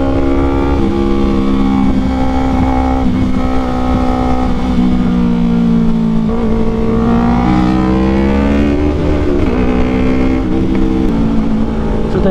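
A Yamaha R3 sport bike fitted with a full Akrapovic exhaust system screams along at high speed, its loud, continuous engine note rising and falling through shifts and revs, close and steady throughout.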